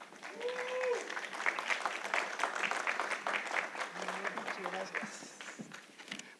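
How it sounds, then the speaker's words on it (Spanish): An audience gives loud, steady applause to welcome a speaker at a 2022 comedy showcase, with dense clapping carrying throughout and a few voices and a brief whistle rising over it. "Por favor, recibamos a don Alfredo Ulloa con un fuerte aplauso."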